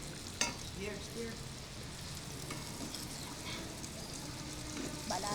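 A mixture sizzles steadily in a hot pan while a utensil stirs and scrapes through it, the frying hiss continuous and fairly quiet with occasional louder clicks.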